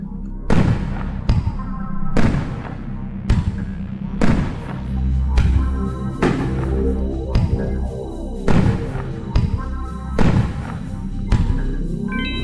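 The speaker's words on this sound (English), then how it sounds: "That's a lot of freaking mortars going up." Firework mortars launch one after another in Firework Simulator, loud booming thumps in an uneven rhythm, some close together, each trailing into a ringing, crackling tail, with a voice talking between them.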